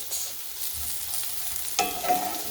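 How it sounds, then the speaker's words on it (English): Garlic cooking in a cast iron skillet, heard as a soft, low sizzle with quiet scraping stirs and a brighter spatter of frying near the end. "we're going to add in our garlic, and we're going to keep cooking it for about a minute"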